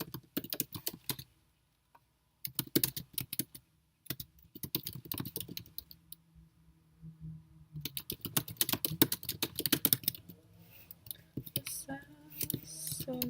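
Bursts of typing on a computer keyboard, quick clattering runs of keystrokes broken by short pauses, close to the microphone, with faint murmured speech toward the end.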